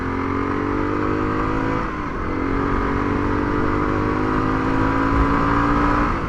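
A KLR 250 motorcycle on a shakedown ride hums along at steady speed, its engine note rising and falling slightly with a brief dip mid-ride, with wind noise underneath and no voices.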